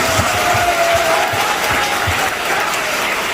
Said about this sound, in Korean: 내가 기자님들에게 박수 한번 쳐드리겠습니다.